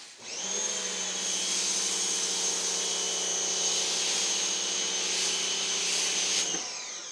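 Two Craftsman 1700 pressure washers run together spraying foam, a loud continuous whining roar with a steady tonal hum that starts abruptly, holds for about six seconds, then cuts off.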